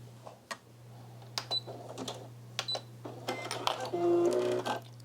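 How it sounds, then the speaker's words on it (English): A sewing machine stitching a buttonhole on a patchwork skirt, with short mechanical whirring bursts and clicks separated by pauses over a steady low hum. "let's tackle that second buttonhole."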